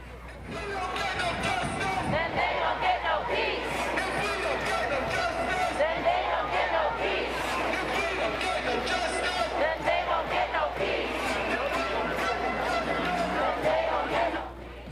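A large pro-Palestinian protest crowd marches at night through New York City, a dense, steady roar of many voices with shouted chants and whoops that holds loud and continuous from start to finish.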